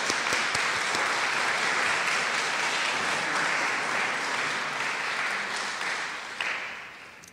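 An audience at a national oratorical festival gives a full round of applause to the senior division speakers. Dense, sustained clapping holds steady at a strong level, then thins and fades toward the end.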